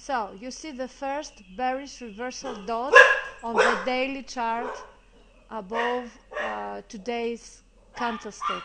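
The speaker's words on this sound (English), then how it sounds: "I apologize for my dogs." Dogs barking and yipping in a home behind someone talking, several short barks mixed under and between his steady speech.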